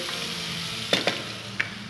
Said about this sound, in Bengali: এবারে দেখো মশলা ভাজছি, মশলা ভেজে তারপরে ওটাকে এবার